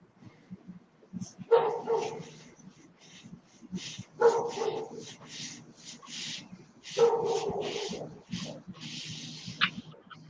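A dog makes three drawn-out whining, yelping vocal bursts at a close distance, with quiet gaps and faint background noise between them.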